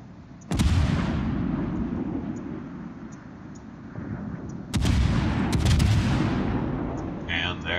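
Naval guns fire in a warship video game, heavy booming blasts: one near 0.5 seconds, then a cluster of rolling shots around 5 to 6 seconds, each decaying into a long rumbling tail.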